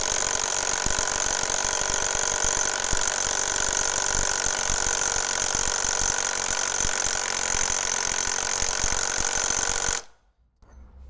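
An Ingco cordless impact wrench drives a nut to 700 Nm, giving a loud, steady, continuous rattling hammer for about ten seconds that then stops abruptly, leaving near silence.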